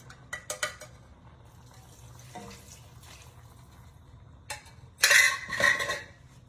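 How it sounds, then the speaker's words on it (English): Broth is poured into a pot of vegetable soup, with clinking of utensils and metal cookware early on, then a louder splashing gush of liquid near the end; close kitchen sounds, no talking. "Let me add my broth."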